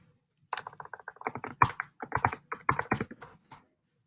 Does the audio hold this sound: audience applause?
no